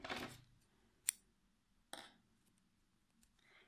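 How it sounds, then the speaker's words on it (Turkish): Scissors snip crochet yarn in a quiet room: a few short, crisp cuts and clicks spaced apart, with light rustling of the yarn between them. "İpimi kesiyorum."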